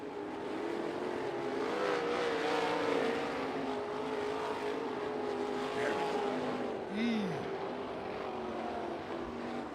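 Sprint cars racing on the dirt track at Bubba Raceway Park, a steady loud engine roar with pitch sweeps as cars pass, heard from the stands beneath crowd and announcer noise.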